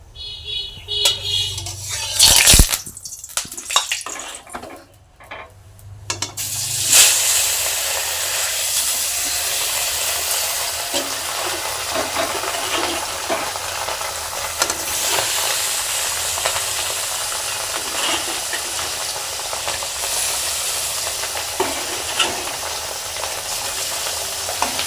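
Oil heats and sizzles in a hot wok before fish chochchori is cooked, starting with a few handling clunks and then settling into a steady, broad hiss that carries on alone for the rest of the stretch.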